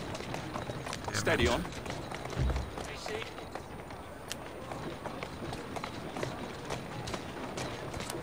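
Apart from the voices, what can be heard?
horse hooves clip-clopping while riding, from video game Assassin's Creed Syndicate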